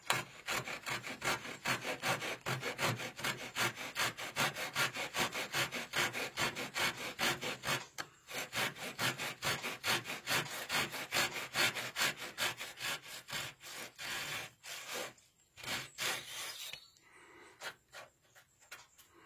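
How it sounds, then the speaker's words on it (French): Hand saw cutting along a wooden workpiece at a workshop bench, with fast, steady back-and-forth rasping strokes that run continuously. The sawing is close and loud, pauses briefly near the end, then gives a few final strokes. "venir avec une scie en plaquant bien le long de sa pièce"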